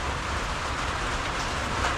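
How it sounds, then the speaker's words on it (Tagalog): Steady rain pours down nearby, a dense, even hiss of drops hitting surfaces with no voices. "Maulang umaga."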